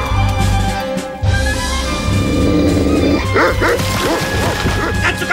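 A pet dog barks and yips loudly up close, with whimpers and a crash-like clatter amid a busy trailer soundtrack, in a farmyard setting among chickens.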